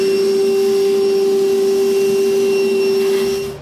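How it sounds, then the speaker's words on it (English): A vacuum cleaner runs continuously while sucking up drilling debris inside a 2020 Chevrolet Silverado cab, a loud, steady whine with a strong fixed tone that fades slightly at the end. "I'll go ahead and grab my vacuum and clean up our mess"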